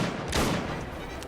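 A single sharp gunshot burst rings out in Assassin's Creed Syndicate, set in Victorian London, followed by a brief fading tail.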